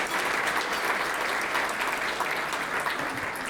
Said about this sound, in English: I think they both deserve a round of applause for their support of the business community